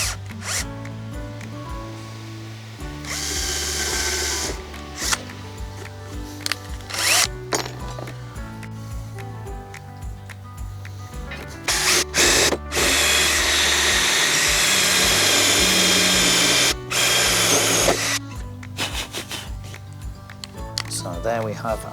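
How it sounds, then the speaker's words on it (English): A power drill bores pilot holes into a domestic wooden gate for a coach bolt, in several whirring bursts that start and stop with short pauses between them. "I'm going to drill an initial pilot hole"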